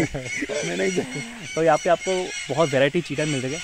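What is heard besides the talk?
parrots calling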